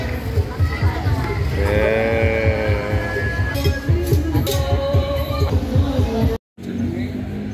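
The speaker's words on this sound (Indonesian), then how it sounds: "Ini salah satu sapi yang akan dikurbankan pada hari raya Idul Adha ini" A cow awaiting Eid al-Adha sacrifice at a mosque in Malang moos in long, drawn-out calls from fairly close by, amid livestock noise and people talking in the background.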